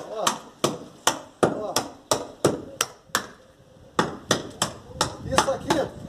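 A small hammer taps repeatedly on a plaster wall, sharp close knocks in a steady, slightly uneven rhythm.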